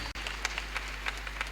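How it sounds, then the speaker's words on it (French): An audience applauds a parish church choir at a priest's installation ceremony in Yaoundé, with a steady patter of clapping of moderate loudness and a few sharper claps standing out, no voices. "Merci à la chorale, nous pouvons les applaudir."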